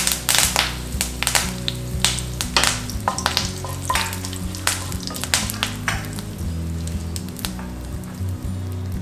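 Whole dried red chillies and curry leaves hitting hot oil already popping with mustard seeds, heard as a loud, close, continuous crackling sizzle with sharp spits and pops, with no talk.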